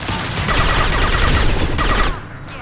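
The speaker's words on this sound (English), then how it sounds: "Fire from the Krogan." Krogan gunfire in the game Mass Effect 2, a dense, loud, continuous barrage of shots that cuts off abruptly near the end, with no voices.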